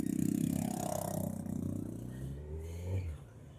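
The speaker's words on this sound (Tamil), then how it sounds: "சைலன்ஸ் எல்லாம் எக்ஸாஸ்ட் போட்டிருக்காப்பல." A loud Kawasaki Z900 motorcycle with an aftermarket exhaust roars with a deep rumble that rises and falls, passing close by in traffic.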